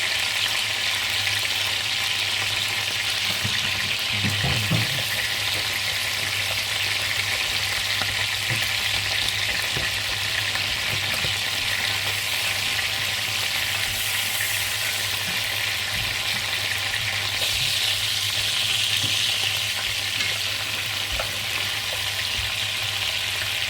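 Onion and garlic fry in a pan for a duck cassoulet, giving a steady, even sizzle that holds at a constant level throughout, with no talking.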